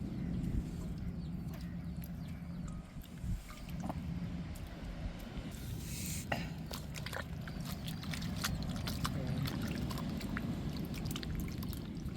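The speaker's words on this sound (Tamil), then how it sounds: "கருவாடு ஊறிடுச்சு நல்லா அலசி எடுத்துக்கிறோம்" Soaked dried rock fish gets rinsed in water, with quiet sloshing, pouring and small splashes repeating at close range over a soft background.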